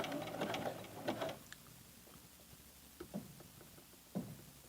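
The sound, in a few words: sewing machine zigzag stitching elastic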